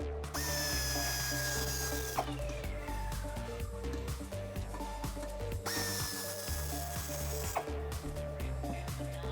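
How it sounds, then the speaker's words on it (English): A power tool whirs in two bursts as it loosens the factory bumper bolts on a Jeep Wrangler JK, close and fairly loud, with rising and falling whine between short pauses. "The next thing we're going to do is unbolt the factory bumper to get it removed."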